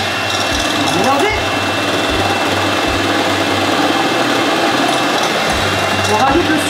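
A kitchen mixer whirring steadily as it mixes mascarpone into a persimmon mousse, a loud continuous motor drone with small rhythmic dips and faint clatter.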